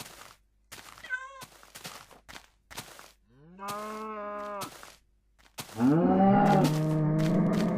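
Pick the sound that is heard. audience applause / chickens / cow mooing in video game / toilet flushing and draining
cow mooing in video game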